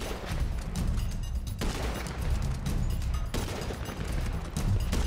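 Gunfire in GTA 5 during a police shootout with gangs, dense rapid bursts that merge into a continuous loud barrage with brief gaps, heavy and sustained throughout.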